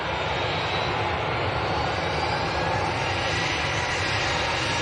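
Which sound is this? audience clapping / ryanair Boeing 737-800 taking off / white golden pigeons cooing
ryanair Boeing 737-800 taking off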